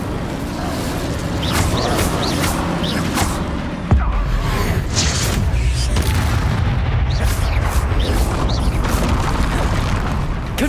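Spell blasts from combat in Hogwarts Legacy, a dense run of booming explosions and whooshing bursts that hit hard at around four seconds and keep rumbling loudly to the end, with no talk over them.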